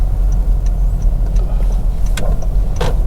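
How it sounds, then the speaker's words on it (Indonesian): A 2013 Honda City sedan with firm suspension rolls over a speed bump, a steady low road and engine rumble broken by two short thumps as the wheels cross. "Ini kita lewat polisi tidur."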